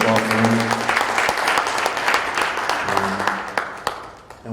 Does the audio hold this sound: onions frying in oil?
no